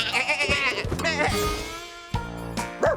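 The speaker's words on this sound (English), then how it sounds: "But Fee did see the sheep. They're eating all my hay" Cartoon sheep bleat several times in quick succession, wavering vibrato calls close and clear, mixed with light background music.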